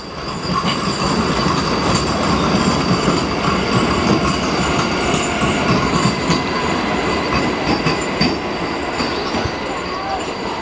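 An electric train rushes past a station platform close by, a dense continuous roar of wheels and rattling carriages with clicks and squeals throughout.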